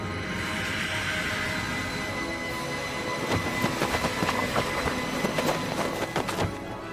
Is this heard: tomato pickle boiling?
no